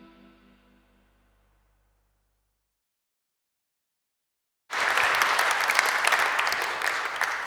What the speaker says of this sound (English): I didn't say you are allowed to clap. Please do that.